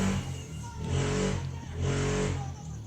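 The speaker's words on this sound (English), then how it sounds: "very nice people outside revving the engines" Car engines rev outside, swelling and easing back twice in a muffled, low growl heard from indoors.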